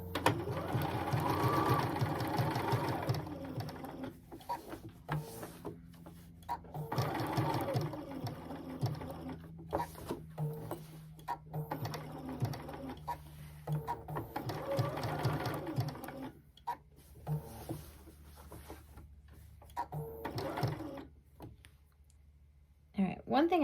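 A sewing machine stitches letters onto a pillowcase in steady bursts, backstitching and overlapping at the ends of each run, with short pauses between, and a person talking quietly over parts of it.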